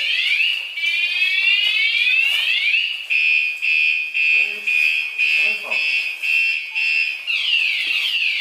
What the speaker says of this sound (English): Why do they have an alarm down here like this?